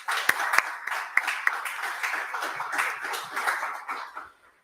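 Applause from the audience at an entrepreneurship dialogue event, a modest spread of clapping with some sharp individual claps, building briefly and then fading out to silence.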